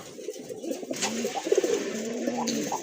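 Red indigo and grey domestic pigeons coo softly in a few repeated, throaty calls close by, with no voices.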